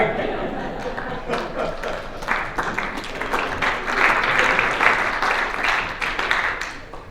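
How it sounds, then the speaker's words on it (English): Scattered then fuller applause from members at a Kiwanis club meeting, a mid-sized room of hands clapping for several seconds and swelling near the end, with talk underneath. "Got a little applause with that."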